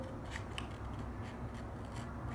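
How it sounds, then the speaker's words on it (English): Scissors snip through paper for a tag and pocket album. Repeated crisp cuts come at an even pace, close and clear over a steady background hiss, with no talking. "just using my scissors"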